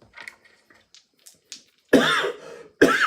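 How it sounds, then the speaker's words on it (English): A few faint sniffs and throat sounds, then two loud, harsh coughs close by, the second cut short. "I was fine until I sat down. And now I gotta cough my face off."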